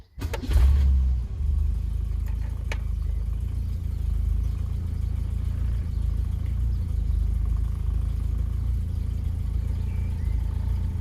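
An Austin Maxi engine with a K&N air filter cranks and catches, then settles into a steady, close, low idle rumble that continues throughout.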